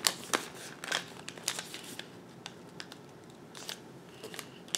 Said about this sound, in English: now you're gonna fold this bottom up to the top corner